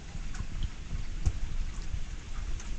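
Rain falls in a steady patter with occasional heavier drops tapping a nearby surface, getting into the vented hood of a Nissan Skyline GT-R, low rumbling underneath.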